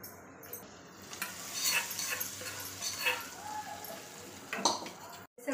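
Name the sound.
mixing dal with tempering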